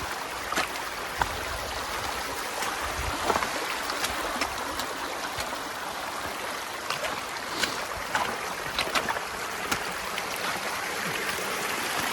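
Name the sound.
stream flowing hard, hiker wading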